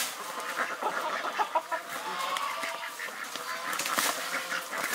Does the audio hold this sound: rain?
no